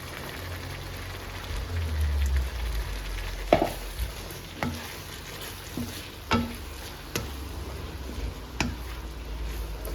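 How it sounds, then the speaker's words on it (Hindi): Chopped capsicum sizzling as it hits a cooked tomato masala in a pan, a steady crackling fry with a series of soft scraping stirs and light knocks spaced every second or so. "अब इसमें डालूंगी मैं कैप्सिकम"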